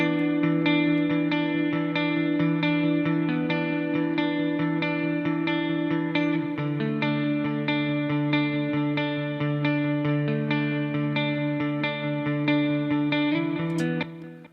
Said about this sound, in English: This amplitude plugin's adding some delay and some reverb.